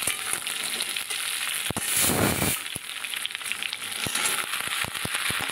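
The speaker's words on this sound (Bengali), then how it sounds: "সমস্ত সবজিগুলো দেখো এক এক করে নেড়ে নিচ্ছি" Mixed vegetables fry in a pan for a dal and vegetable curry, a constant bright sizzle punctuated by sharp clicks and scrapes of a spatula turning them, with a brief louder hissing surge midway, close up and without talk.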